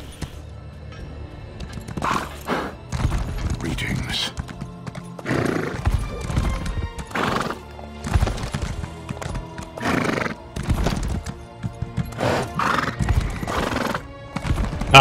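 A sorrel horse in the video game Elder Scrolls Online neighs and whinnies repeatedly while its hooves clip-clop steadily underneath, loud and close throughout.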